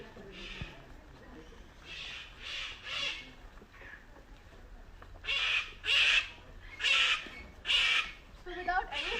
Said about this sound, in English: That, my dear friends, are the calls of cockatoos.